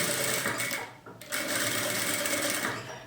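A sewing machine runs a seam on a baby bag with a fast, steady motor whir and needle rattle, near and loud, pausing briefly about a third of the way in before resuming.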